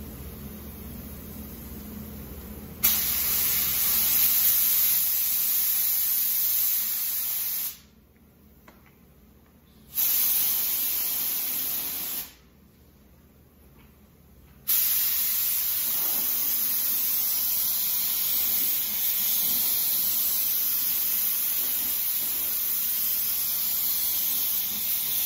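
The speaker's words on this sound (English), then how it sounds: "we're ready to spray. I've got the MP172 epoxy in the gun." Steady, loud hiss of a spray gun spraying MP172 epoxy sealer in a garage, starting after a few seconds and running in long passes with two short pauses between them.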